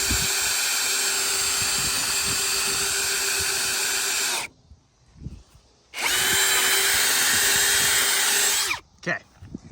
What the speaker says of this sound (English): I am going to drill up and through all this stuff and into the coping